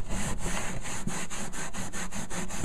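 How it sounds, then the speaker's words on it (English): Someone rubs softened glue off a painted surface using mineral spirits, making steady back-and-forth scrubbing strokes at a brisk, even rhythm, about two or three per second, close and moderately quiet. "you come in and you rub it, and it will lift all the glue"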